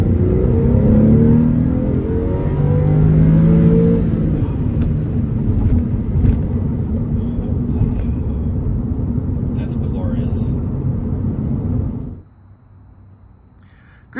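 A 2002 Porsche 911 Carrera 2 with a six-speed manual transmission, its engine revving loudly and steadily up close, then cutting off abruptly near the end, with a voice talking over the start.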